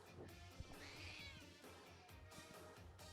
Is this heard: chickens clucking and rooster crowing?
no